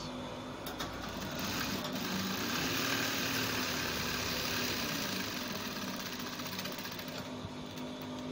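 Close and continuous, a sewing machine runs steadily through the folded part of a button-down shirt, its even mechanical whir holding at a constant level from start to finish.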